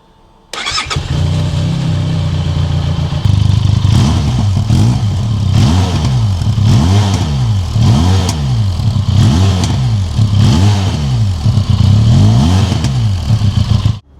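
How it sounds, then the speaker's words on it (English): A 500cc adventure motorcycle with standard exhaust fires up close by, idles, then revs repeatedly in a rhythmic series of throaty bursts, loud and near. "We're both very impressed with the sound of this bike."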